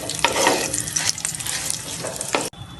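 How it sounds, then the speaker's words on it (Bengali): Raisins and cashews fry in a pan with cumin seeds and chopped ginger for bhuna khichuri, giving a steady close sizzle with stirring scrapes that cuts off abruptly near the end. "এবার এগুলোকে ভেজে নিন।"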